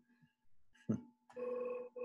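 A mobile phone rings indoors during a lecture, giving short electronic ring tones with brief gaps, fairly faint in the room.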